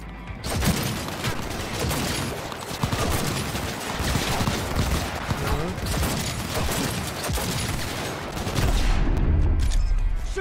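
Dense gunfire fills a firefight in Cyberpunk 2077: rapid overlapping bursts and single shots crackling nonstop and loud for about ten seconds, with a heavier boom near the end and brief voices mixed in.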